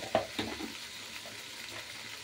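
Mixed vegetables fry in oil with salt and turmeric, giving a soft, quiet sizzle broken by a couple of brief stirring clicks near the start.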